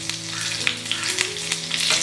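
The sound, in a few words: curry leaves and dried chillies frying in coconut oil with mustard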